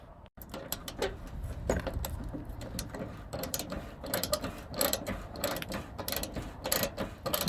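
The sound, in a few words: ratchet with extension unscrewing 8 mm fender screw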